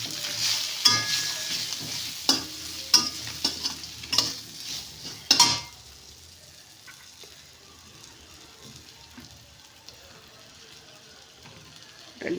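Dried red chilies fry in a pan for a spicy chutney, with a hissing sizzle punctuated by several sharp stirring clatters in the first half, then settling into a quieter, low simmering crackle.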